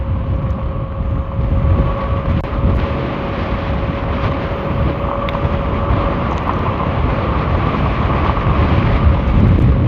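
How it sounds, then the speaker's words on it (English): Heavy wind buffeting the microphone on a 52-volt Movcan V70 electric bike at speed, a loud continuous roar with a faint steady motor whine underneath and no talking. "It's a little bit more windy than I thought it was going to be today."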